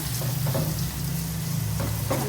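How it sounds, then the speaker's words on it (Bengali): Carrots fry in a pan for restaurant-style egg fried rice, giving a short, steady close sizzle with a faint scrape or two and a low background hum. "গাজরটাই আগে দিলাম এটাও একটু ভেজে নেব"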